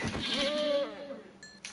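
A goat in a survival video game lets out a single loud, wavering bleat that lasts under a second, followed by a brief electronic tone with no speech.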